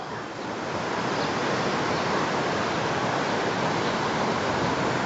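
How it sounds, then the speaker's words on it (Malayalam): Steady, dense rush of a waterfall and cold flowing stream between Pahalgam and Srinagar, Kashmir, loud and continuous throughout with no voices. "അവിടുന്ന് ഒരു വെള്ളച്ചാട്ടം അങ്ങനെ വരുന്നുണ്ട്, വെള്ളം ഒഴുകി വരുന്നുണ്ട്."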